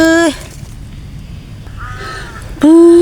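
A crow caws loudly twice, a harsh drawn-out call at the start and again at the end, with a fainter call in between over outdoor background noise.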